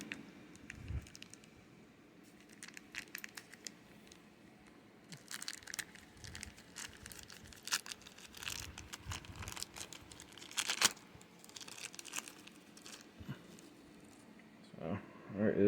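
Plastic toy packaging crinkles and crunches in irregular bursts as dull scissors hack at it, with handling rustles in between, fairly quiet and close.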